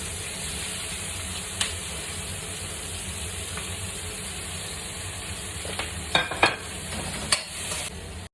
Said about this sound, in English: Now to this I will add the onion and fry till light golden brown.